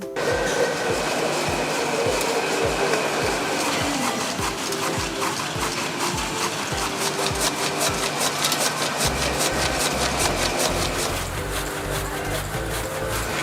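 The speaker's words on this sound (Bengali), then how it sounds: "এই মেশিনের মাধ্যমেই ছোট ছোট কাঠি বানানো হবে" A factory machine chops thin wood veneer into matchstick blanks with a loud, rapid, regular clatter of cutting strokes over a constant mechanical drone. Partway through, the rhythm shifts to a faster, denser chatter.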